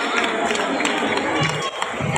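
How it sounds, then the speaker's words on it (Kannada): An audience at a Vasavi Jayanti community celebration in Malleswaram claps in a dense burst of applause, mixed with crowd noise and murmuring voices. "ಜೋರಾದ ಚಪ್ಪಾಳೆ ಬರಬೇಕು."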